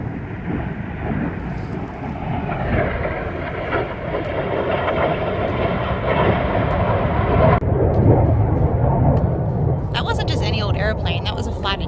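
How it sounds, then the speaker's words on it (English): A fighter jet roars overhead on a bushland walk near Perth, a loud broadband rumble that swells and holds, then cuts off abruptly, with a brief high rattle afterward. "Airplane, that was a fighter jet."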